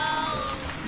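Rain in the Roblox offroad driving game set on an extreme Kalimantan jungle trail, a steady close hiss of falling drops with faint background tones running throughout, with no talking.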